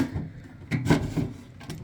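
The drawer of a Kobalt Mini 10.83-inch two-drawer blue steel tool box slides out roughly with a close scraping rub and a few grating clunks, then a second faint scrape, with no voices.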